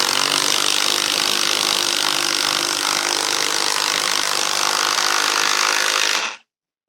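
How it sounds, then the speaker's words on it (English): An Einhell IMPAXXO 18/230 cordless impact wrench drives a hefty lag screw into dense wood with a loud, continuous rattling hammer close by for about six seconds, then stops abruptly. "let's see this tool in action by driving a lag screw, like this one, into fairly dense wood"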